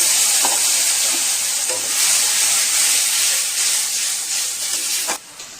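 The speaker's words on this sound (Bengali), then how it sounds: "মশলাটাকে একটু ভালো করে কষিয়ে নিয়েছি" Spice masala sizzles and hisses steadily in a pan while being cooked for a fish egg pakora curry, a loud continuous fry with a few faint knocks of a spoon, ending abruptly.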